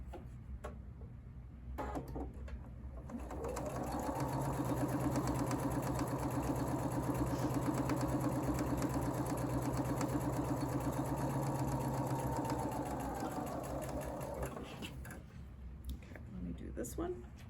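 A sewing machine runs steadily for roughly eleven seconds while stitching the second side of a sampler quilt block, its even motor hum and rapid needle clatter starting and stopping cleanly amid quiet room sound.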